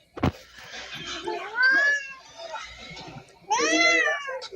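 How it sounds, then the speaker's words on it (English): A cat meows loudly and close by, with a few drawn-out, pleading cries, one longer call at the end, and some faint talk around them. "That poor cat is begging for help."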